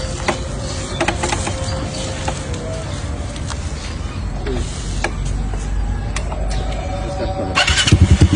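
A motorcycle engine cranks and catches, settling into a rough idle with brief mechanical clicks, then revs up in loud pulsing bursts at the close.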